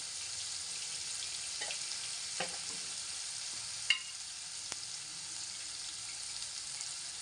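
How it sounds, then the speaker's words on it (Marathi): Crab curry with homemade masala, Kashmiri chili powder and turmeric sizzles faintly in a pan, a steady soft hiss broken by a few light stirring clicks. "व्यवस्थित परतून घेऊया"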